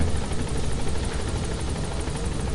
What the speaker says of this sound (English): Why would the chopper be right there?